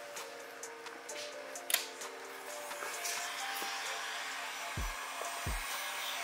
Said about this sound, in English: grab your heat gun